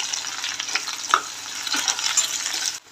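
Cumin and garlic sizzle steadily in hot oil in a pan, close and moderately loud, with a few stirring clicks.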